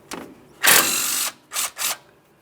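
A ratchet turns a 10mm mounting bolt on the flex hose bracket at the front steering knuckle of a 2015-2020 Ford F-150. There is a faint short burst, then one long, close clicking run, then two quick bursts.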